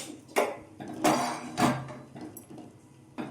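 Several sharp metallic clanks of a pot being set down and shifted on a lit stovetop, spaced irregularly, close by with no talking.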